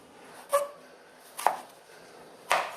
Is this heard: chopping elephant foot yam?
yes